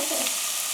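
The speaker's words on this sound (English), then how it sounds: "Over here we're going to throw in some onions and garlic for another refrito." Onions and garlic sizzle steadily in hot oil in a pan for a refrito, a dense continuous frying hiss close by with no talking.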